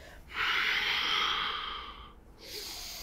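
Deep yogic breath through the nose during a grounding Ganesha yoga flow, one long steady airy inhale swelling for nearly two seconds, a brief pause, then a softer rushing exhale, close and clear with no talking.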